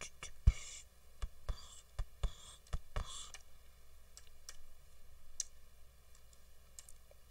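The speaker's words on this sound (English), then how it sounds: "Insane typing skills." Keys on a computer keyboard click in irregular, sparse bursts, some taps sharper and louder than others, with quiet gaps between them in a hushed room.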